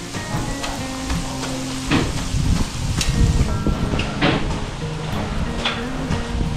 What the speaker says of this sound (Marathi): बघ इथे तळत आहेत, ते बाहेरून घेऊन आधी इथे आतमध्ये तळत आहे.